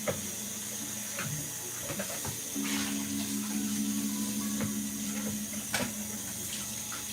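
Onions are rinsed under a running kitchen tap while cooking Moroccan harira, a faint hissing stream that grows steadier partway through, with a few clinks and knocks and no talk.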